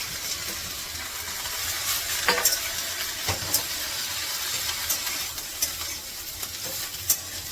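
Roasted grated coconut masala being stirred together in a pan, a steady scraping and sizzling texture with a few sharper clicks of the spoon against the pan, fairly close and continuous, no talk.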